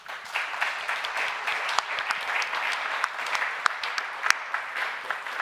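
At the World Policy Conference 2024 final debate, a conference audience gives steady, dense applause, with distinct individual claps standing out from the crowd, moderately loud and uninterrupted by speech.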